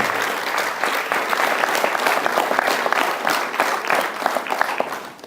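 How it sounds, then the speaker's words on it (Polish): Audience at a film-festival meeting with director Marek Koterski applauds steadily, a dense, even wash of many hands clapping close and loud throughout, with no talk over it. "Klaszczę Państwu, bo Jesteście sensem moich wysiłków"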